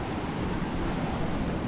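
Large ocean waves splash up close in a loud, continuous roar of surf, mixed with wind noise on the mic.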